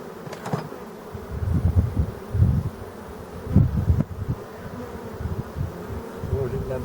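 Honeybees from a colony at an apiary hum and buzz steadily around an open hive, the low drone swelling and fading as insects fly close by outdoors.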